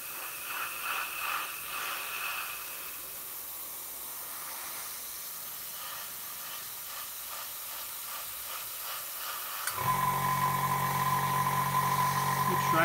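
A faint, steady hiss of an airbrush spraying paint on a scale model runs under a quiet voice, then a louder motor hum with a sustained tone kicks in near the end.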